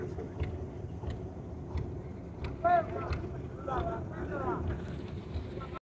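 A river trawler's engine drones steadily as the boat nears the shore at a river crossing in Goma, Bakergonj, Barishal, with wind and water noise and voices talking over it throughout.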